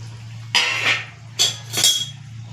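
Homemade lentil dumplings (bori) are dropped into a pan of tangra fish curry, producing two bursts of clattering and clinking against the cookware over a steady low hum.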